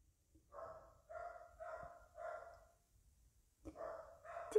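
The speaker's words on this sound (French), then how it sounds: "Je pense que vous entendez mes chiens" Dogs barking indoors at home, four quick barks in a row, a pause, then two more, moderately distant and fairly faint.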